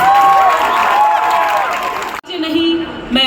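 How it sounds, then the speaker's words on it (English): A crowd applauds and cheers for Rajasthani community performers. The clapping is loud and sustained, with voices and shouts mixed in, then drops away briefly before picking up again at the end. "Can we have a round of applause?"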